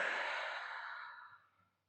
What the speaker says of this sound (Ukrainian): Робимо глибокий вдих. І видих через рот.